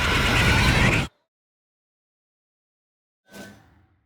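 A mare in The Witcher 3 gives a loud, full whinny for about a second, then falls silent, and a softer, shorter neigh or snort trails off near the end.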